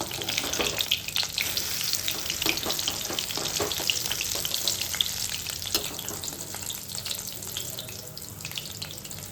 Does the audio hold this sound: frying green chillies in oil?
yes